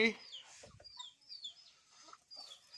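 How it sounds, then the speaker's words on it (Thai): Chicken clucking out in rice fields at harvest time, a few soft clucks and calls scattered over about three seconds with faint voices and outdoor background. "ไก่"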